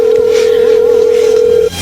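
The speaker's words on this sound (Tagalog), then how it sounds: "Ayan, nagriring ang phone niya." A telephone rings in a radio drama as one steady, loud electronic tone that holds for well over a second and then cuts off.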